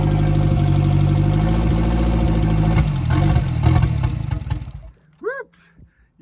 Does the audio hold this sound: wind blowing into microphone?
no